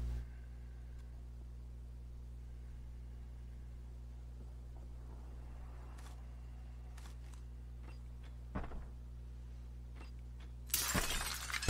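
Armor shattering in Modern Warfare: after a long stretch of low hum and faint clicks, a sharp crack lands, then a loud, bright glassy shatter bursts near the end, close and sudden.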